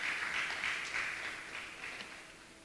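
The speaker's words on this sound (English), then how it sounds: "A round of applause for him, ladies and gentlemen." Audience at a memorial lecture applauding the lecture's author, a fairly faint, even patter of many hands clapping that slowly fades, with no voices over it.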